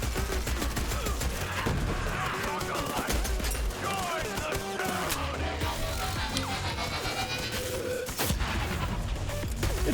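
Steady automatic gunfire from the game Borderlands 3 rattles through dense battle noise with explosions, a continuous loud barrage across the whole stretch.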